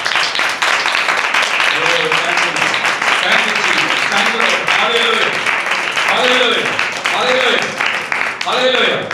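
A church congregation at a Christmas service claps together in praise of the Lord, a loud, dense wash of clapping that goes on throughout while a voice sings or calls out over it.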